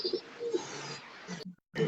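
Pigeons cooing close by, a few soft low coos in quick succession with a short silent gap near the end.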